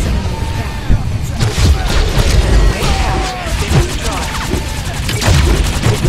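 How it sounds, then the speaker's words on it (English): A heavy sniper blast and surrounding battle impacts in the online arena game Games of Glory, loud booming bursts and crashes layered with rapid combat effects while players talk over the action. "Yeah, take that giant sniper shot!"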